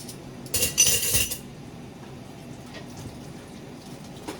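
Cutlery and dishes clatter together during dishwashing, a dense burst of clinking for about a second near the start, then quieter occasional taps of utensils and faint water in the background.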